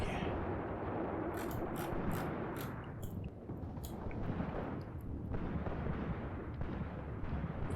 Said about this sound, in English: Now we've got some machine guns opening up.